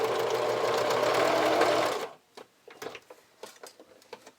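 A sewing machine stitches steadily and loudly for about two seconds while back tacking a camisole strap, then stops, leaving a few faint ticks and handling clicks.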